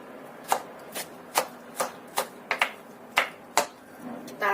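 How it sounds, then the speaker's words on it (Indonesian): A knife finely chops three garlic cloves on a cutting board, making about a dozen crisp, close taps in an uneven rhythm with short pauses between them. "3 siung bawang putih, cincang halus."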